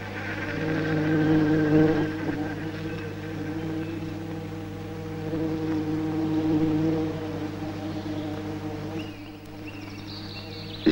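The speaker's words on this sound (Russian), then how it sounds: "А это похожий на пчелу шмель." A bumblebee buzzing near flowers, a steady low droning hum close by that swells and fades slightly over about eleven seconds, with no voices.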